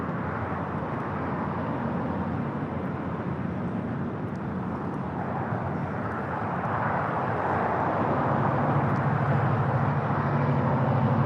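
Airbus A380 jets sit at an airport after pushback, giving off a steady low engine rumble and airport hum that grows slightly louder toward the end, with no voices.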